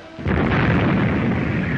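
A warship's ceasefire gun fires in a naval battle film, a single loud boom that swells into a sustained, dense rumble lasting almost two seconds with no voices.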